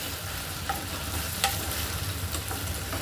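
Okra sizzles in oil left in the pan for tempering, a continuous crackling fry with a couple of sharp stirring clicks, close and fairly quiet, with no voices.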